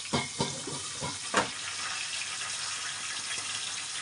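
Green chillies, curry leaves and ginger hit hot oil in a home kitchen, giving a few sharp crackling pops early on that settle into a soft, steady sizzle, close and fairly quiet, with no talking.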